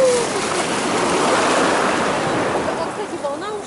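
Sea waves wash onto the beach at Adler, a broad surging hiss that swells and fades under wind noise, with a faint voice near the end.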